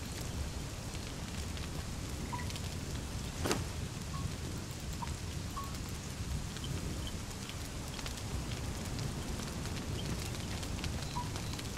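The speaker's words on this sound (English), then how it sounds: "Oh, it's raining." Continuous rain patters in a soft, even wash in the video game Conan Exiles, with occasional faint tones and one sharp crackle rising briefly above it.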